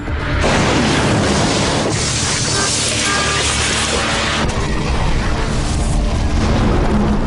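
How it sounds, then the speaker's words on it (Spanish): A massive, rumbling explosion aboard the aircraft carrier USS Forrestal roars continuously, a dense wall of booming noise and crackling debris with a second surge partway through. "una tercera explosión le lanzó por los aires"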